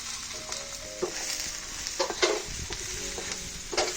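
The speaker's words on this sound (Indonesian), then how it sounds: "Tumis sampai layu ya." Genjer (yellow velvetleaf) greens stir-fried in a pan: a steady close sizzle of frying runs throughout, with periodic scraping stirs of a utensil against the pan.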